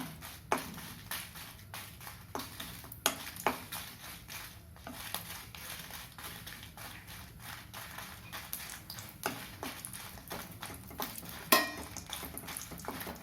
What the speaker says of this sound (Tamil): மிளகா கொஞ்சம் கூட செல்லும், அதனால் மிளகாய் நின்று வறுத்துக்கலாம்.